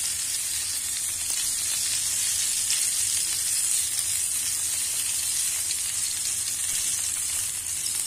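Food coated in a seasoning paste is stirred in a hot pan for a New Year's meal, giving a loud, continuous, bright sizzle that stays steady throughout, with faint scraping underneath.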